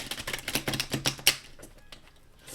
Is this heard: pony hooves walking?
no